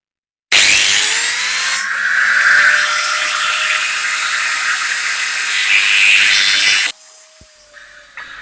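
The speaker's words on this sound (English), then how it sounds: "the best way to remove the pin is with a Dremel with a slitting disc on the end" A Dremel fitted with a slitting disc grinds through a steel pin on a GT40 engine crank build, a loud, steady high-pitched whine that runs continuously for about six seconds, shifting pitch slightly as it bites, then cuts off to quiet.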